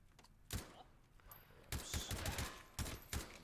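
Video game shotgun fire during a speedrun race: several sharp, close blasts come in quick irregular clusters over a low background hum.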